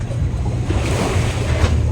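Sea waves washing in, a broad continuous roar with gusty wind noise over the microphone, fairly loud and steady, with a slight swell near the middle and no voices.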